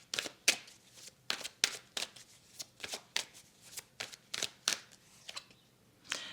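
Tarot cards are handled and shuffled close up, with a quick series of crisp riffling snaps and paper flicks in an irregular rhythm, alone and fairly soft.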